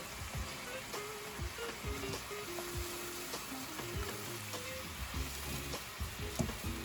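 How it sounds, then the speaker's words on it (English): A dal kachori sauce bubbling and sizzling as it cooks in oil, with a continuous low crackle and soft popping, fairly quiet, while a voice talks over it. "Now we need to cook this sauce until the oil floats on top"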